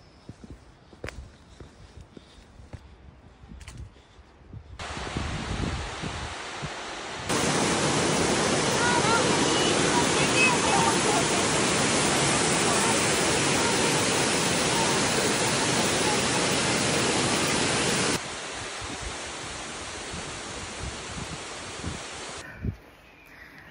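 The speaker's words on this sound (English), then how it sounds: "gonna take it up to see a view of the waterfall" A waterfall on the Appalachian Trail approach trail gives a loud, steady rushing roar that fills most of the clip, preceded by faint rustling and footsteps on the trail.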